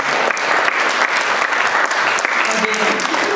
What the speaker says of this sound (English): Let's give a big round of applause for all of Sally's friends.